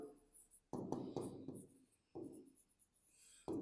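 Pen strokes write accounting entries by hand, several scratchy bursts of writing on paper, close and quiet, separated by short pauses.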